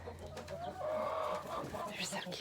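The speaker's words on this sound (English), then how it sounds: "But anyway, in here, in the chicken coop." Chickens in a warm coop with young chicks, a steady close mix of clucks and chirps filling the short stretch, with no talk over it.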